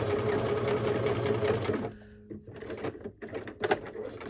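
Sewing machine stitching a pocket made from a junk mail envelope, running steadily and loud for under two seconds, then stopping, followed by a few quiet clicks and handling knocks.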